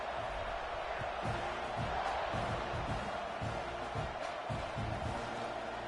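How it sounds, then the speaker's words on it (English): A college football stadium crowd at a Texas A&M versus Baylor game roars steadily as the kickoff approaches, a broad, constant wall of distant cheering with no talk on top. "They're set to kick it off, and this crowd now ready to get behind them."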